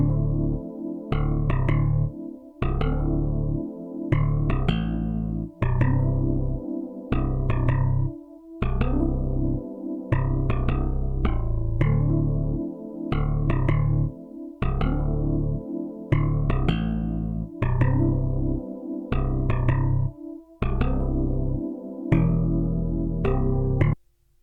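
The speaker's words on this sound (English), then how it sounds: "I then added a bass from Xenology," A synth bass patch from the Xenology library plays a repeating 80s R&B bassline, thick and sustained with a chorus-like sheen, looping steadily and loudly with short pulsing gaps, no voices.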